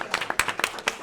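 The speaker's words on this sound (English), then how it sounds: "Now you can clap." People at a village board meeting clap briefly after a vote, a short burst of close, sharp claps from a small group.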